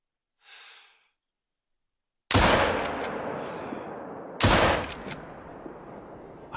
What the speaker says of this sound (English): I think we made 2 pretty awesome shots right there.